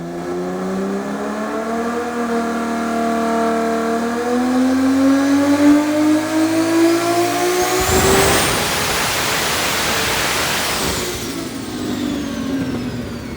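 A 1400+ hp AWD S13 car engine on around 53 pounds of boost revs up loudly, pitch climbing steadily, then bursts into a roaring, rasping peak before settling back.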